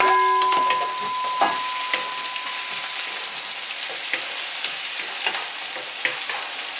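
A haddock fillet seasoned with togarashi seven spice fries in a pan beside bok choy, a steady close sizzle with scattered sharp pops and crackles throughout, and no one speaking.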